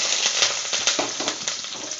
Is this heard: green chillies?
yes